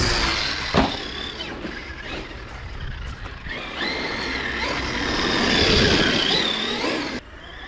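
A 2024 Traxxas X-Maxx RC monster truck drives in toward a ramp, its electric motor whining loudly and steadily over continuous tyre and gravel rumble, swelling toward the end before cutting off sharply.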